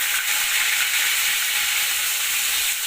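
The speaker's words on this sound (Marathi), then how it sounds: "आता त्यामध्ये कांद्याची पेस्ट करून घेतले ती घालते।" Onion paste dropped into hot oil with cumin, pepper and cardamom for chole, giving a bright close sizzle and crackle that stays loud and even throughout, no speech.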